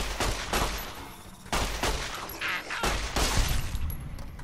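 Pistol shots from the video game Fallout: New Vegas come in sharp, loud bursts of several rapid rounds with short pauses between volleys, close and punchy against a faint background.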